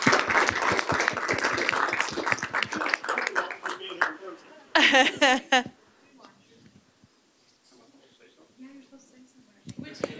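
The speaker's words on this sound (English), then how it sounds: "you can help us applaud uh, these members too" Audience applause at a board of education meeting for committee members, a dense burst of clapping for about four seconds that fades out, followed by quieter talk and laughter in the room.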